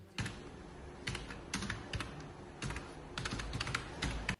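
Someone types a search query on a computer keyboard, with bursts of quick, close, crisp key clicks separated by short pauses.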